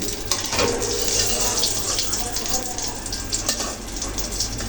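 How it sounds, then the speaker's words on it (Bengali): Steady hiss and crackle of stuffed brinjal frying in hot oil, continuous and fairly loud, with faint clinks over it. "বেগুন ভরাগুলো ভাজা একদম হয়ে গেছে উঠি নেব"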